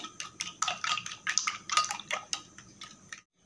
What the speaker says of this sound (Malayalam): നമ്മൾ എടുത്ത് വെച്ച എഗ്ഗിലേക്ക് രണ്ട് സ്പൂണ് ഷുഗറും കൂടി ആഡ് ചെയ്ത് നന്നായിട്ട് മിക്സ് ചെയ്തെടുക്കുക